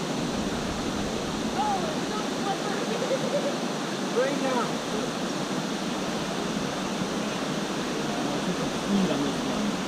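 A rushing waterfall in Costa Rica pours over a rock face, a loud, steady broadband roar throughout, with faint voices and brief calls heard over it.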